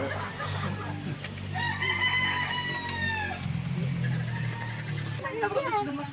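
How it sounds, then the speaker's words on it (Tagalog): A rooster crows with long drawn-out calls while hens cluck nearby, with background voices and ambient farmyard noise throughout. "Ito yung manok ko sinasabi mo."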